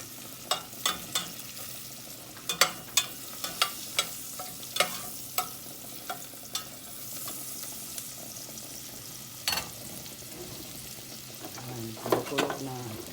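Garlic frying in a pan for arroz caldo, a low steady sizzle broken by sharp clinks of a utensil stirring against the pan, close and with no talking.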